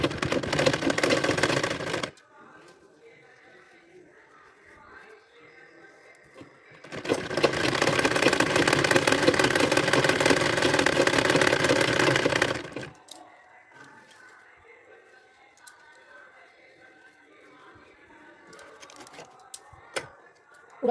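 An electric sewing machine stitches a saree with buckram in two loud, fast-rattling runs of about two and five seconds, separated and followed by quiet handling noises.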